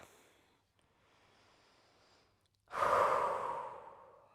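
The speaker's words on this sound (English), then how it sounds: "When you get there, find a full breath." Deep breathing during yoga practice: a quiet slow inhale followed by a loud, full, close exhale that gradually fades, with no talk.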